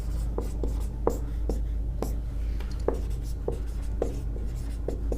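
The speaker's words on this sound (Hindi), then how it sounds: "तो यहाँ पर देखिए लिखेंगे पाइथागोरस" Chalk or marker writing on a board during a Hindi-medium trigonometry lesson on the Pythagorean theorem, with repeated short tapping strokes at an uneven pace, close and fairly loud over steady low room hum.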